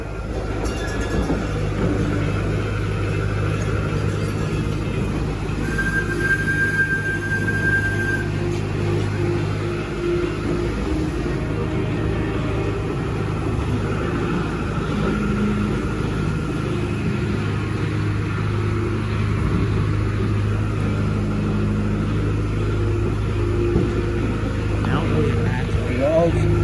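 A tourist train at the Dreamworld theme park rumbles steadily along throughout, with a low drone and occasional mechanical whine, while a voice speaks over it.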